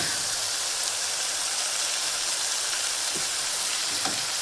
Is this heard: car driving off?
no